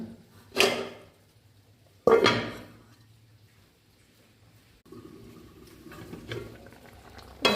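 Mango pulissery curry bubbling in a pot on the stove: two sharp clattering knocks near the start, then a quiet stretch, then a steady low simmering hiss and bubbling that builds through the end.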